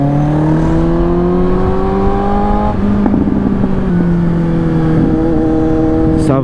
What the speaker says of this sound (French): genre en 3ème à 50, j'accélère.